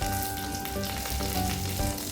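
Onions and curry leaves fry in hot oil, a close, steady sizzle with crackling pops throughout, no voices over it.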